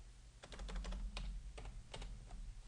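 Quick bursts of computer keyboard typing during a programming lecture, crisp clicks in a couple of rapid runs with brief pauses, fairly close over a low steady hum.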